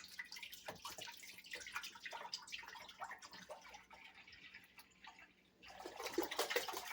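Thick cream pouring and splattering into a pot in an uneven stream, a brief pause, then another burst of pouring, close by.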